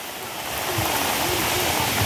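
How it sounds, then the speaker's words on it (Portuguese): Rain falling in the Brazilian northeast countryside of Ceará, a dense steady hiss of water that grows slightly louder and stays constant, close and enveloping, with no talking. "Tá chovendo, viu?"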